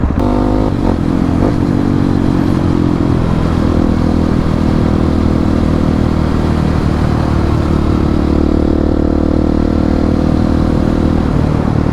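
A motorcycle ridden along small roads, its engine roaring loudly and close throughout with a steady drone and slight rises in pitch, and no voices.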